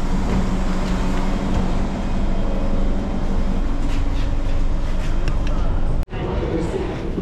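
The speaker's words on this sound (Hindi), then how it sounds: "भाई ये ऐसा लग रहा है कि दिल्ली मेट्रो में ही चल रही हूँ मैं." A Singapore metro train rides along with a steady loud rumble and hum throughout, and a brief abrupt drop near the end, with no clear talk over it.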